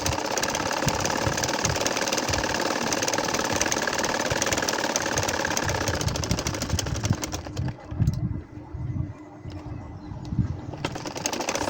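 A sewing machine stitching a nakshi kantha quilt along diagonal lines gives a loud, close, continuous motor whir with rapid needle chatter. Partway through, the steady run breaks into shorter, stop-start bursts.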